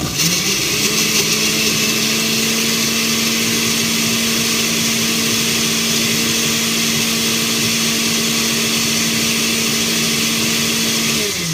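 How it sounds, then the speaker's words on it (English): A blender whirs steadily at full speed for the whole stretch, blending a green vegetable drink; a loud, continuous motor drone holds an even, unbroken pitch throughout. "So let's get this blender going."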